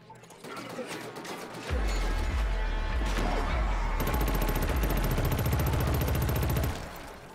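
Gunfire from the shooter game Killzone Shadow Fall, sustained rapid automatic bursts that run loud and dense for several seconds after a short lead-in, with a voice talking faintly underneath.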